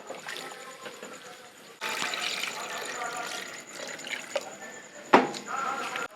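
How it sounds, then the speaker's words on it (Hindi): Water, about four glasses, is poured into a pot of nihari masala with meat, a soft trickling splash that begins abruptly and runs on, with a brief sharper clatter near the end. "मैं इसमें शामिल कर रही हूँ 4 गिलास के बराबर पानी"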